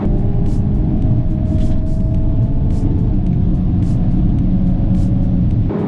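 A 2022 Hyundai Kona N and a Mazda3 Turbo GT with all-wheel drive drag race, heard as a loud, continuous engine and road rumble close to the mic, without speech.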